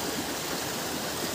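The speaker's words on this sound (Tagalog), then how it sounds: "At yung force ng tubig talagang, ayun oh, sobrang lakas." Water gushes strongly up from a spring in a continuous, dense rushing roar, close and steady with no voices.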